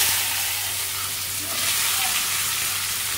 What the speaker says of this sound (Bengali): পেঁয়াজগুলোকে কিন্তু একটু গোল্ডেন ব্রাউন করে ভালো করে ভেজে নেব